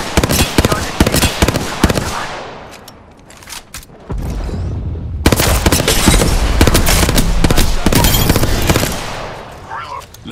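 Gunfire rattles through an Apex Legends firefight in loud, rapid bursts that stop briefly and then surge back as a sustained, close barrage.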